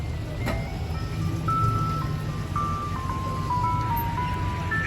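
Wolo 345 ice cream truck melody playing a song, a thin electronic chime tune stepping through clear single notes at moderate distance over low background rumble.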